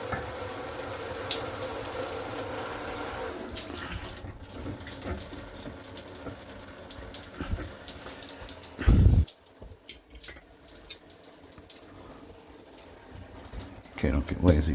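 Delta shower running hot water, a steady splashing stream that carries on throughout, briefly interrupted by a loud knock before the flow resumes more quietly, with a person talking now and then.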